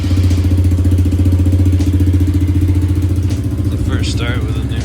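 A 2023 Honda Trail 125 motorcycle engine runs on its first start after a new fuel injector is fitted in a garage, a steady close single-cylinder putter at idle throughout, with some faint voices over it.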